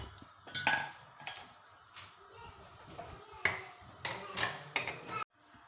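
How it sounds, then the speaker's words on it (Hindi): A pressure cooker lid being pressed shut on a home stove while making aloo gosht, with clanking metal knocks and clinks close by, a few sharp hits in a row. "ये मैंने कुकर बंद कर दिया"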